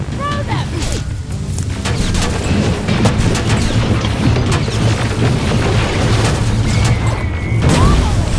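Grenade explosions in the video game Terminator: Resistance hit as a run of sharp, booming blasts and crackling bursts, over a dense rumbling battle background with chaotic gunfire-like impacts throughout.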